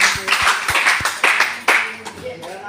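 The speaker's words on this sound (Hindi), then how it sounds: "बच्चे के लिए जोरदार तालियां दीजिए।" Clapping for a child, with sharp, distinct hand claps at first that build into a denser round of applause, close and fairly loud, while voices talk over it.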